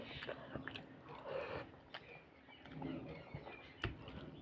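Soft, close chewing and biting while someone eats rohu fish curry at home, irregular wet mouth sounds spread through the moment under faint background noise.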